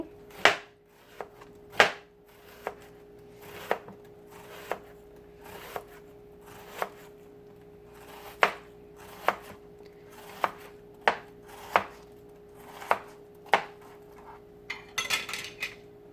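A knife slices through onions on a cutting board with sharp, evenly spaced chops, about one a second, close and clear, ending in a quick flurry of cuts.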